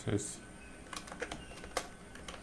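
Keys clatter on a computer keyboard while someone types a short line of Python code; the taps come sparse, faint and irregular over a low background hum.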